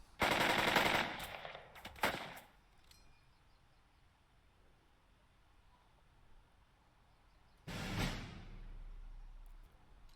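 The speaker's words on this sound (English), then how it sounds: "we'll have you open up on the MG" Machine gun fire in the tactical game Burden of Command, two loud bursts of rapid shots separated by several seconds of quiet background.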